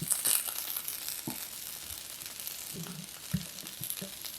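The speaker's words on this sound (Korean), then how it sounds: "감자의 겉껍질 부분도 세워서 노릇하게 구우세요." Already-cooked potatoes sizzle and fry in a pan with their skins browning, a steady crackling hiss with a few soft scraping and turning knocks, close and alone with no talking.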